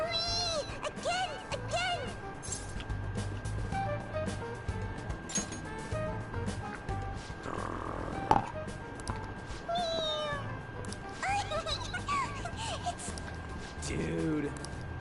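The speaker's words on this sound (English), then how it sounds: "It meows when you press on its head." Stuffed toy cat from Persona 5 Royal meows repeatedly as its head is pressed, clear cat calls over game music with voices talking in the background.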